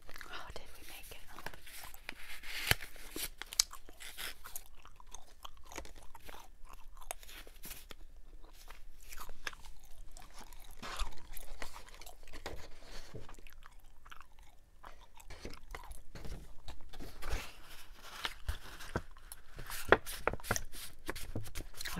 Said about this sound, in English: I'll try to figure it out while I'm chewing gum.